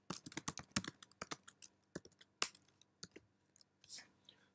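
Fast, irregular clicks of a computer keyboard as code is typed, close but soft, in quick bursts with short pauses between them.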